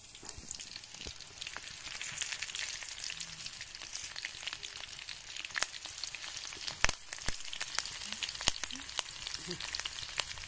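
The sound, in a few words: frying in a pan while cooking fish curry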